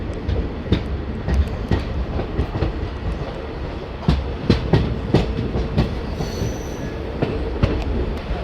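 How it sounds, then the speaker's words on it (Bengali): A DEMU passenger train rolls out of Dumka station before dawn, wheels clattering in a rhythmic clickety-clack with occasional squeals over a steady rumble. "দুমকা স্টেশন থেকে ট্রেনের ডিপার্চার হয়ে গেল"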